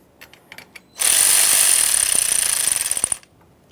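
A power tool rapidly tightens a battery hold-down nut on a 2009-2014 Nissan Maxima, a loud, close, rattling burst lasting about two seconds, framed by a few light clicks.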